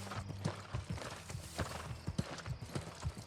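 A horse's hooves clip-clop in a steady walking rhythm in the fantasy video game New World: Aeternum, with an occasional whinny mixed in and no talking.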